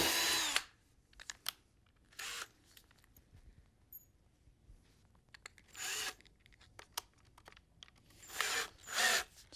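Power drill boring into wood while building a mid-century modern TV stand, in several short loud bursts separated by quiet pauses, with no talk.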